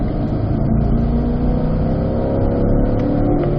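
Race car powering out of a corner on a circuit, its engine a loud, steady drone held close and unbroken throughout, with no voices over it.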